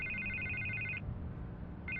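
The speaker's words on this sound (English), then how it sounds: "I can't get the phone to stop ringing." A telephone rings in Batman: The Telltale Series, an electronic trilling ring that sounds for about a second, pauses, then starts again over a low background hum.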